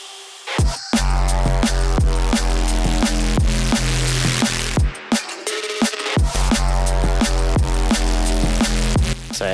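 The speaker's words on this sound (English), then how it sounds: "It's kick, snare, percussion, and bass, and some effects" A bare-bones drum track demo with kick, snare, percussion, bass and effects plays loud and steady, punchy kicks and snare hits driving a regular rhythm over a deep sustained bass, with a brief drop to near silence midway before the groove returns.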